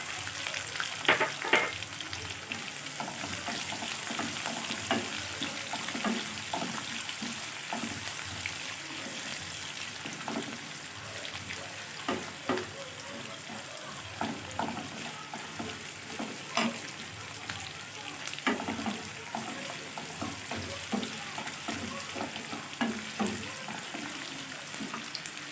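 Onions frying in a pan for an Assamese fish curry, a continuous close sizzle with frequent light scraping stirs throughout, no talking.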